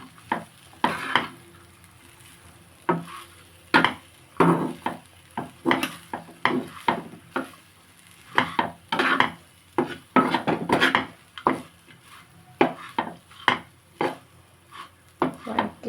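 Curry leaf powder being stirred into rice in a pan, heard as repeated scraping and tapping of a utensil against the pan in irregular clusters, fairly close and with no talking.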